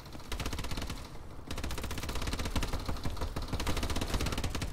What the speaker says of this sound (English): Oh, my turret's fucking him up.